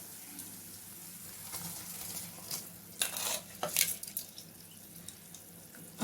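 Rice goes into a boiling pot of Mantya pulao and is stirred, giving a bubbling, sizzling wash of liquid with scraping spoon strokes and splashes that grow busier midway, close and moderately quiet.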